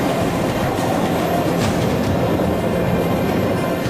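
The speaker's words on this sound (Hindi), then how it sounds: "इस रूट से गुजरते ही ट्रेनों की रफ्तार धीमी हो जाती है।" Train moving slowly along a railway track over a burning coalfield in Jharkhand, with a steady continuous rumble and rolling rail noise, no clear separate wheel clicks.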